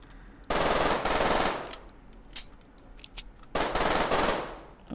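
Submachine gun fire in an indie zombie shooter video game, in two long rapid bursts separated by a pause with a few isolated shots, loud and close with no talking.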